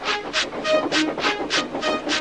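A cartoon steam engine, Thomas, chuffs steadily along rails in a brisk, even rhythm of about eight loud puffs, each a hissing burst of steam, with no talk over it.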